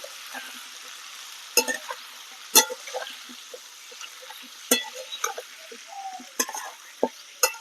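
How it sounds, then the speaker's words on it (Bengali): Spices with cumin and coriander powder frying in a pan for a drumstick curry, a soft sizzle broken by sharp clinks and scrapes of a spoon stirring, close and fairly quiet, with no voices. "এবার এগুলোকে নেড়ে চেড়ে ভালো করে আমি একটু ভেজে নেবো"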